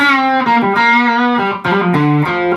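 An electric guitar with humbucker pickups plays a short melodic phrase through a modelled 65 Deluxe Reverb on a Fender Super Champ, giving loud, clean-to-slightly-driven sustained notes and harmonics.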